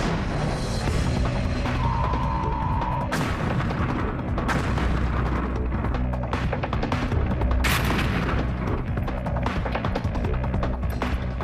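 Matador shoulder-launched missile set to blast mode striking a reinforced concrete building, a dense, continuous roar of heavy booms and rumbling impacts with sharp bursts throughout, loud and sustained with no talk.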